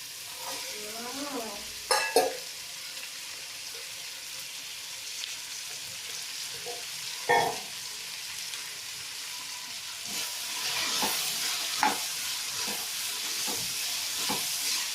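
Carrots, added after beans, frying in a pan for vegetable biryani, with steady sizzling and hiss under repeated spoon-stirring scrapes and a few sharp clanks, continuous and close.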